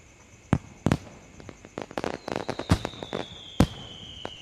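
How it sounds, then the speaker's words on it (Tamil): Firecrackers go off during New Year celebrations in a neighbourhood, a scattered series of sharp, crackling bangs at irregular intervals, some closer and louder, some fainter and farther away. "அக்கம் பக்கத்தில் இருக்கிறவங்களாம் சந்தோஷமாக பட்டாசு வச்சு கொண்டாடின்னு இருந்தாங்க"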